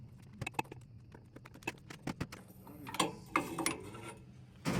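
Ratchet tightening a spark plug into a cylinder of a Volkswagen engine on a sand rail, a series of sharp clicking bursts in short runs with pauses, close and fairly quiet.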